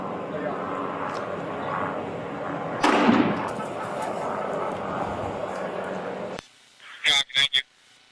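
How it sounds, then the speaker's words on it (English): A police flashbang grenade goes off as officers move in on a 17-year-old suspect after a stolen truck rammed a cruiser, a sharp, loud crack followed by a rushing tail over a background hum, then later some short bursts of radio-like noise. "We're gonna throw a bang real quick."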